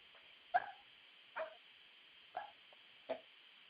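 A dog barks and whimpers four times at even intervals, faint and somewhat distant, the sounds thin and muffled over a steady line hiss.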